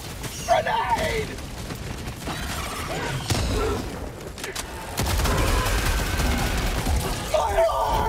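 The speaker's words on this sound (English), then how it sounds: "Grenade!" A grenade goes off amid Helldivers II combat, a loud burst landing around the middle of a chaotic stretch of gunfire and mechanical clatter, with players shouting over the noise.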